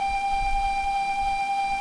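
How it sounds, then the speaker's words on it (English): A steady locomotive whistle in Train Simulator 2018 holds one continuous tone without a break, loud and close over a low engine rumble. "Sound the whistle."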